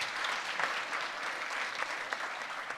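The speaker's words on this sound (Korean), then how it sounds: "뜨거운 박수로 맞이해 주시기 바랍니다." An audience at a port and maritime economy forum gives steady, dense applause to welcome a speaker to the stage, filling the room without a break.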